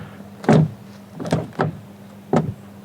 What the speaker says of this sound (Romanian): Ușile sunt destul de grele, se închid foarte ok.